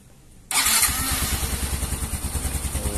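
A Yamaha Mio M3 scooter that sputters and lacks power is started up: a sharp catch after a moment of quiet, then a steady, close engine running with a pulsing idle rhythm.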